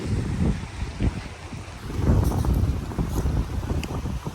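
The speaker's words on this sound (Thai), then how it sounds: "ลมพัดแรงมาก" Strong wind gusting across a beach at a seaside resort in Pattaya, buffeting the microphone with loud, constant rumbling roar and faint surf beneath.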